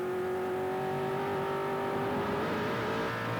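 A GT1 race car on its final lap at Manfield circuit, its engine holding a steady high-pitched drone with slight pitch shifts, heard from a distance without any voices.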